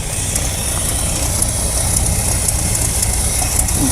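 An abandoned Dodge Power Wagon service truck's engine idles loudly and continuously, a dense rough rumble that stays steady with no voices.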